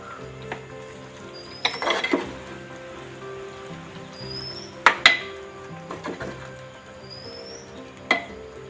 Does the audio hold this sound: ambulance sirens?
no